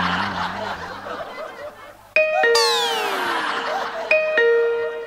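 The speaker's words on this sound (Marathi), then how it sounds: "ऐकलीस बेल?" A ding-dong doorbell chime rings twice in a home during a comedy skit, clear and close, following a stretch of soft laughter.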